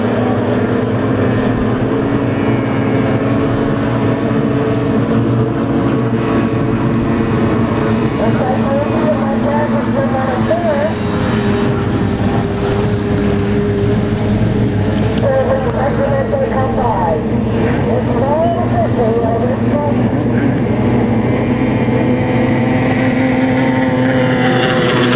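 Racing boat engines roar loudly and without a break, a dense, droning whine with shifting pitch as the boats race, while an announcer talks over the noise throughout.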